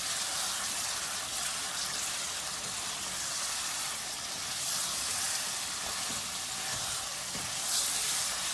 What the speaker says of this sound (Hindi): पाँच मिनट मैंने इसे भून लिया।